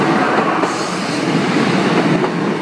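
Class 153 diesel railcar passing a level crossing at Sleaford East, Lincolnshire, heard close and loud as a steady rumbling roar with rail clatter throughout.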